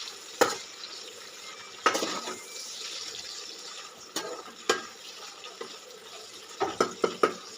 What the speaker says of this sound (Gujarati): હવે આપણે ભીંડો સરસ ચોડવા દઈશ થોડીક વાર